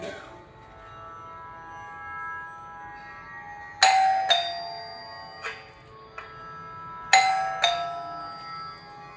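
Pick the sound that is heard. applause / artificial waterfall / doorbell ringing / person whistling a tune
doorbell ringing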